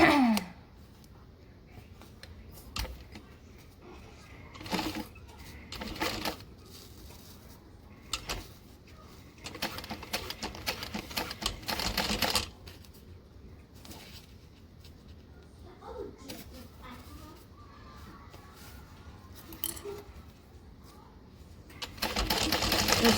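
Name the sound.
sewing machine top stitching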